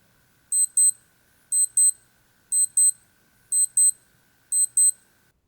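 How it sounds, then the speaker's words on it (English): Five pairs of quick high-pitched electronic beeps from a Casio MWD110H digital watch alarm, evenly spaced about a second apart, crisp and close with a faint steady hum underneath. "Here's a quick preview of the alarm."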